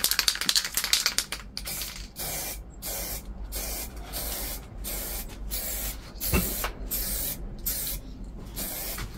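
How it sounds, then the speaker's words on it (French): A can of matte spray paint hisses in short repeated bursts onto a cane handle, nearby and fairly quiet, each spray separated by brief gaps, with faint rattling between. "je vais commencer par la bombe de mat"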